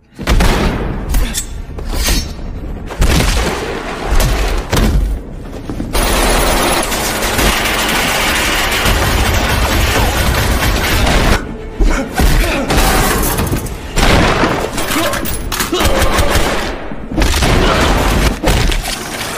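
Dense film battle sound of troops firing on a creature: sustained bursts of gunfire with booms, shattering crashes and heavy thuds, loud and continuous with a few brief lulls, over dramatic score.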